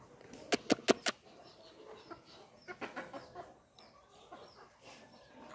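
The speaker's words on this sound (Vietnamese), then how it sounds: "gà kìa gà nó thèm" Farm chickens cluck close by: a quick run of four sharp, loud clucks near the start, then a softer, scattered series of clucks over low background noise.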